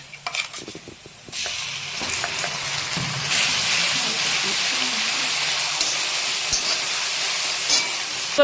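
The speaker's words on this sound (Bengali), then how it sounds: "এই যে পেঁয়াজটা এখন ভাজা হচ্ছে বা হয়ে গেছে, সেটাতে আমরা দিয়ে দিচ্ছি আদা রসুন পেস্ট" Onion frying in a pan as ginger-garlic paste goes in for chicken biryani, a loud steady sizzle that jumps higher after a few seconds, with brief stirring clatter near the start.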